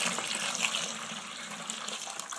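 A MaxiJet pump sends reef tank water through a line into an empty bucket, producing a steady splashing gush of water pouring, fairly close and gradually easing slightly.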